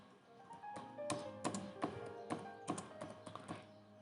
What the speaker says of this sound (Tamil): இப்போ பார்த்தீங்கன்னா ஹே ஹூ ஆர் யூ அப்படின்னு வந்து நான் வந்து டைப் பண்ணுறேன்